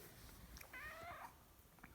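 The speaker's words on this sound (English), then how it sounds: "Aw, lots of meows." A house cat meows once, a mid-length wavering meow standing out over a steady room hiss, soft and fairly close, with no talk.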